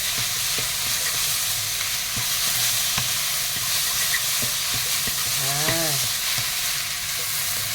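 Pad thai with fresh shrimp sizzles and crackles steadily in a hot pan as the noodles are stir-fried, with metal utensils scraping and clanking as it is stirred, no voices.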